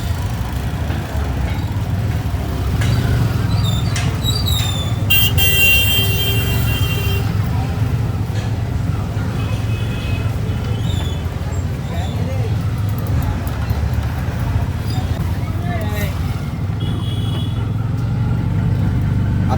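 An auto rickshaw engine hums continuously as it drives through a busy market area, with surrounding traffic and horns in the background and someone talking over it throughout.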